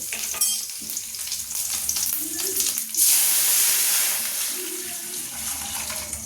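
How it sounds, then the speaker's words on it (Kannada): Water is poured over boiled radish in a cooking pot, a continuous splashing, hissing pour that swells loudly midway and then eases, with scraping kitchen movements around it. "ಮೇಲೆ ನೀರು ಫಸ್ಟ್ ಹಾಕ್ಬಿಡ್ತೀನಿ ಇದಕ್ಕೆ"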